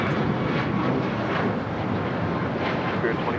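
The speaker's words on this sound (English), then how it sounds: "United Airlines 2667 taking off to Washington Dulles on the MAX 9" A United Airlines Boeing 737 MAX 9 taking off at Los Angeles International Airport, giving a dense, rumbling jet roar that holds steady and loud from start to finish.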